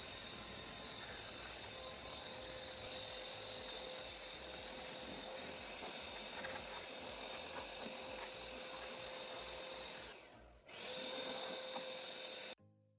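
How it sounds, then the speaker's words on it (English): An air blower cleaning dust from the inner cowl of a Tata Tigor car during a wiper motor repair, a steady loud whooshing hiss that holds for most of the span, dips briefly, then resumes and cuts off. "I'm gonna completely clean this inner cowl part using an air blower."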